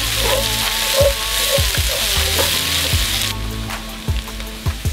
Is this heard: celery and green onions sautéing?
yes